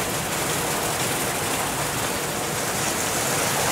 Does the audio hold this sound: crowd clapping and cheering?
no